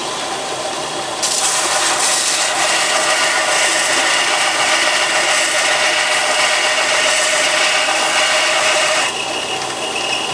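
A belt sander grinds steadily against a skew chisel for sharpening, a loud, continuous abrasive whir that intensifies as the blade meets the belt and eases slightly near the end.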